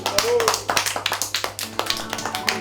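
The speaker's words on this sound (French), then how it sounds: "Et on s'applaudit." A small group claps irregularly in a row of quick, close hand claps during a children's movement activity, with faint voices mixed in.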